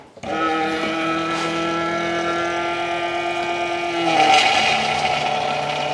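Engine of a restored, formerly sunken Sea-Doo jet ski starts up cold and runs at a steady, droning idle with a strong harmonic tone, rising slightly in pitch and roughness near the end.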